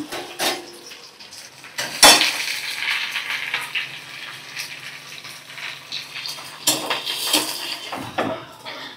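Chopped onion frying in a pan while a soybean curry is cooked. A soft sizzle runs under sharp clinks and scrapes of a utensil against the pan, with louder knocks near the start and toward the end.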